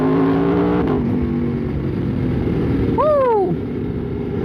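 An Aprilia RSV4 motorcycle accelerates with a loud, steady engine roar, then a brief rising whine sweeps up and falls away near the end.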